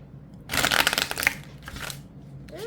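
Lenormand cards are shuffled by hand during a tarot-style birthday reading, giving a short riffling burst followed by a fainter second shuffle, close and fairly quiet with no talking.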